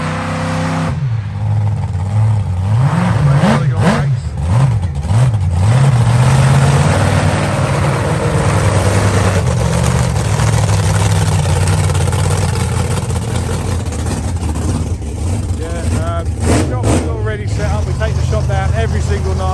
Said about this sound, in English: So they're just doing a brake test now.